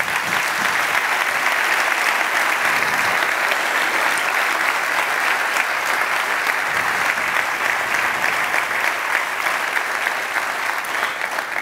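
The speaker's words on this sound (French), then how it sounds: "On peut maintenant applaudir." An audience at the inaugural ceremony for Montreal's Réseau Express Métropolitain claps steadily and loudly, a dense, sustained wash of applause with no break.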